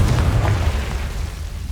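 A Confringo blasting spell exploding in Hogwarts Legacy, heard as one loud, deep, rumbling boom that fills the moment and slowly fades.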